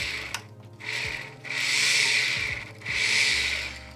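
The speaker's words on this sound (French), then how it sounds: "Là je vais venir faire un pré-trou pour venir ensuite encraner ma tige." A small drill bores a pilot hole into a brass heart earring, with bursts of high whirring around short pauses, close up and with no talking.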